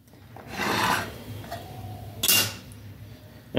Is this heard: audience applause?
no